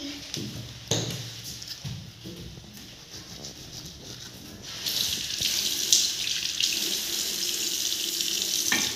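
Tap water runs into a sink for face washing at home: a brief clank, then a steady, fairly close gush that swells partway through and keeps flowing to the end, with no voices.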